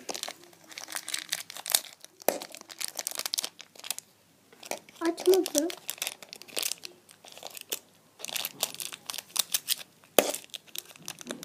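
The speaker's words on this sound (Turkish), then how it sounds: "Ben makasımı alıp açacağım." A surprise toy package, likely Shopkins, is cut open with scissors, with crisp crinkling of plastic wrapping and sharp snips in irregular close-up bursts, and a voice speaking intermittently.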